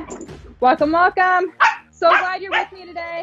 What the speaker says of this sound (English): I'm so sorry for my barking dog.